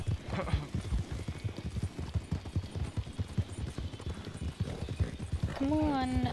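Galloping horse hooves in Red Dead Redemption 2 beat out a fast, steady clip-clop throughout, with a short whinny near the end and a person talking over the gameplay.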